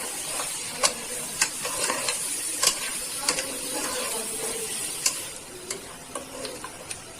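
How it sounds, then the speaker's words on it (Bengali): Tomato paste and onion paste for rogan josh stirred in a sizzling pan, a soft frying hiss broken by repeated sharp scrapes and clinks of the utensil against the pan at an irregular pace. "ভালো করে মিশিয়ে নিচ্ছি।"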